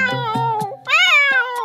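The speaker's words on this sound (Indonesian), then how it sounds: "Kemarilah kucing ungil." A cat meows in a short run of high, wavering cries, close and fairly loud, with no other sound around it.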